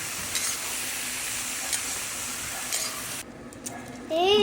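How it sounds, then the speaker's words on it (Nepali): Goat meat pieces with dried chilli, black cardamom and spices stirred in a hot pan, a steady sizzle and frying hiss with scraping; a clatter and louder burst near the end. "त्यसपछि मजाले चलाउने।"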